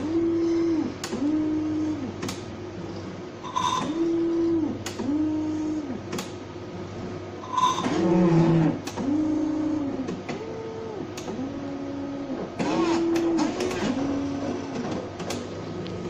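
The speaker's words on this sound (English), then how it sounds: "There is a small printer already attached in the machine" A small printer built into an Erba Elite 3 hematology analyzer prints in a steady run of short, repeating mechanical passes with brief pauses between lines, fairly close and alone with no talking.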